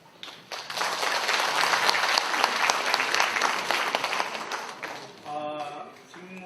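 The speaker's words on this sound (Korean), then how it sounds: "여러분 격려의 박수를 보내주시면 좋겠습니다" An audience claps at a 2023 Housing Managers' Day forum in Korea as debate panelists are introduced: dense, sustained applause for about five seconds that fades as a voice begins speaking.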